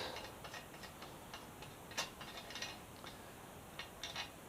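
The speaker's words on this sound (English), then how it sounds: "So we're going to undo our bottom lock nut." Tool work loosening the bottom steering stem lock nut on a Yamaha FZ6R motorcycle, heard as faint, quick ratcheting clicks in irregular bursts, close but quiet.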